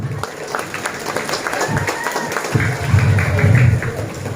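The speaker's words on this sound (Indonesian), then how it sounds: "Tepuk tangan dulu, tepuk tangan." Applause from a crowd, building and getting louder toward the end, with voices and shuffling mixed in.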